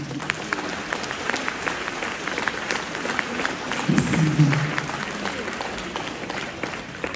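An audience applauds steadily, the clapping fairly distant and even, while someone briefly speaks near the end.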